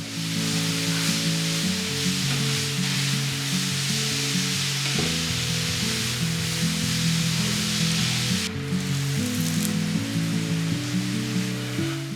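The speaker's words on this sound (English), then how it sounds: "Stir the mixture well." Red cabbage mixture with spices and Italian herbs sizzling in a pan as it is stirred, a steady close frying hiss over a continuous hum, with no talking.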